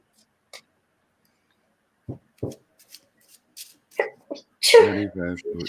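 A sharp sneeze bursts out after a few soft clicks and shuffles, followed by a voice speaking briefly.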